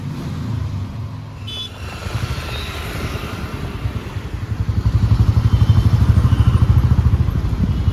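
A Royal Enfield Bullet motorcycle is ridden close by, its engine giving a deep, rapid, thumping pulse that grows louder and steadier over the final seconds.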